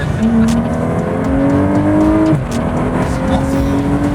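A BMW 335i engine revs hard and close, its pitch climbing steadily through a long pull, dipping briefly at a shift, then rising again, loud and continuous.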